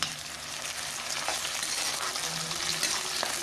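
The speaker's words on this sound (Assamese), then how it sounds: "এতিয়া মই এখিনি ভালদৰে অকমান সময় ভাজি লম যাতে আদা নহৰু কেঁচাৰ গোন্ধটো অকমান নাইকিয়া হওক।" Ginger-garlic paste frying in a pan for a mixed vegetable dish, a soft continuous sizzle with occasional scrapes and light clinks of stirring, close and fairly quiet.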